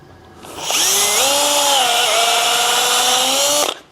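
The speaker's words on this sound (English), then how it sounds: "Use a nice little countersink bit, so takes a little bit off the top." A drill with a small countersink bit bores into an antique hardwood dining chair, spinning up sharply into a loud, close, steady whine that shifts pitch slightly under load before cutting off.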